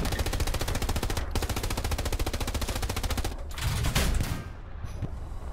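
Machine gun fire in a tank battle video game, a long unbroken rapid-fire burst with a brief pause around one second and another near three and a half, loud and close, then tapering off near the end.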